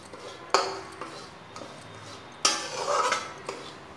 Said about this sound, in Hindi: इसे हम कम आंच पे धीरे धीरे भून लेंगे।